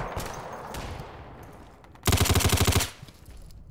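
Gunfire rings out in Insurgency: Sandstorm: a rapid burst of about eight loud shots in quick rhythm, after a stretch of quieter background noise.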